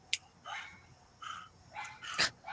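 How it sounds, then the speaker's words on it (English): A dog barks in several short, sharp bursts spread across a couple of seconds, fairly close and clear against a quiet indoor background. "He just barks."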